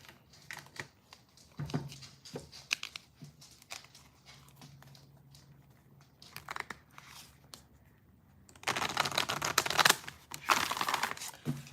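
Tarot cards being shuffled by hand in short bursts of riffling and tapping, close up, ending in a longer, louder flurry of shuffling.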